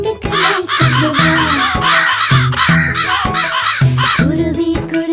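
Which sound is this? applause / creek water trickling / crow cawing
crow cawing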